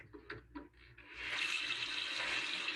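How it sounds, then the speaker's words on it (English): Water poured into a pressure cooker over pork, starting after a few faint clinks and taps, then a steady close hiss of running water filling the pot, moderately quiet and alone. "Then we need to add water inside of it."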